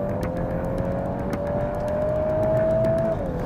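A VW Golf R with the EA888 Evo 4 engine accelerates at full throttle on a race track, its engine note rising steadily from inside the car before a brief drop at the gear change.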